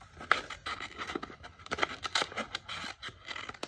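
Scissors snipping around a handprint traced on construction paper, quiet close-up cuts in quick irregular bursts with no talking.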